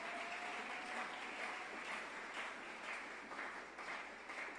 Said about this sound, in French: Acclamez pour vous-même et pour la gloire de Dieu